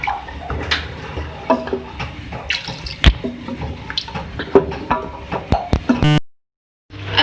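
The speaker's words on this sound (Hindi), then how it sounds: "इसके बाद मैं इसको कुक करने के लिए पानी डालूंगी 3 गिलास।" Three glasses of water are poured into a pot of beef pulao to cook it, a splashing, gurgling stream with scattered clinks and knocks, close and fairly loud, ending abruptly.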